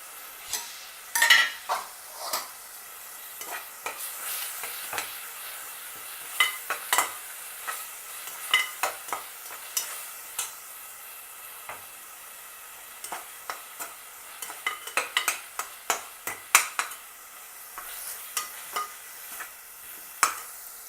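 Crushed ginger and garlic sauté in a pan for a chicken and potato curry, a soft sizzle broken by frequent quick scrapes and clinks of a spoon stirring against the metal, close and with no voices.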